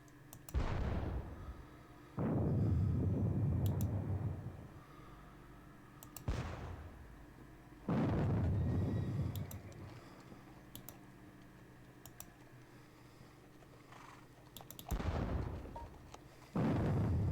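Heavy cannon fire booms in a Battle of Waterloo and Wavre wargame: about six loud, deep blasts at irregular intervals, each rolling off into a rumbling tail, with no talk over them.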